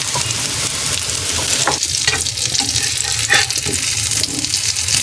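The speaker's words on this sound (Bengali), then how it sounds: "হালকাভাবে আমি ভেজে নেবো এটাকে উল্টে পাল্টে।" Eggplant slices fry in oil over a medium gas flame, giving a steady loud sizzle, while a few scraping clicks mark the slices being turned in the pan.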